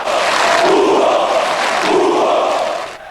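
A football stadium crowd of fans at a Palmeiras match roars loudly and continuously, swelling into rhythmic chanting waves that stay steady before dropping off abruptly at the very end.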